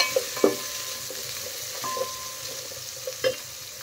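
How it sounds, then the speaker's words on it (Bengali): Chopped onions fry with spices in a pan for tomato pulao, a soft steady sizzle broken by several clinking stirs of a spoon against the pan. "পেঁয়াজ দিয়ে দেওয়ার পরে ভালো করে ভেজে নেব পেঁয়াজ।"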